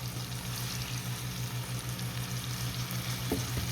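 Spice paste going into onion and tomato frying in a pan for a fish dish, with a steady, close sizzle throughout and a brief scrape of stirring near the end.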